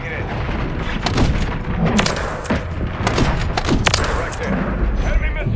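Indirect fire in a combat video game: a busy barrage of thuds and sharp blasts pounds at irregular intervals over a constant rumble, loud and close, while a voice talks over the action.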